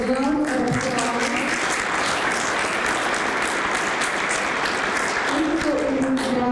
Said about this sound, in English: So please give yourself a round of applause.